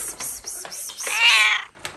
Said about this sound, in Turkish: Kedi sesi mi o ya?